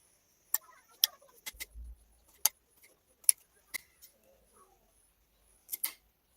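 Sharp, irregular knife chops through carrots on a cutting board, crisp clicks spaced unevenly with brief pauses, close and fairly quiet.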